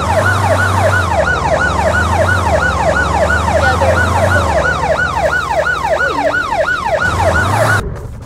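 A police truck siren wails in rapid up-and-down sweeps, loud and close, repeating steadily for about eight seconds over a low engine rumble before cutting off abruptly.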